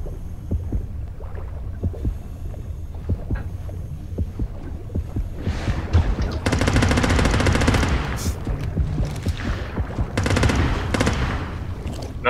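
Underwater shooter gunfire sounds as rapid muffled bursts over a low churning rumble, with a couple of dense sustained volleys in the middle, loud and close, and no talking.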